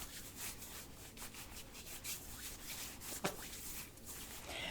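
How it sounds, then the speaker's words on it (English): Hands rubbing together in a washing motion, a steady close, soft friction swish that runs continuously, with one brief louder scuff partway through. "just rub your hands like you were washing them"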